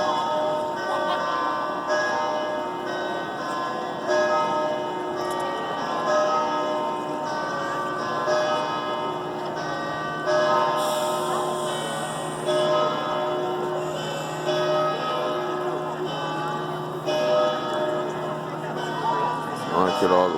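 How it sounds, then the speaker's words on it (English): The church bell tower in Pisa rings on Labor Day, its bells tolling in a steady, resonant series of strikes with long sustained overtones, heard from nearby with crowd murmur underneath. "so we actually get to hear the bell tower"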